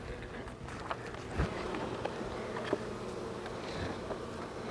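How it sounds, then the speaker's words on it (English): Bees buzz around an open hive during a spring inspection, a faint steady hum with brief passes close by under outdoor background noise. "Bunch of bees."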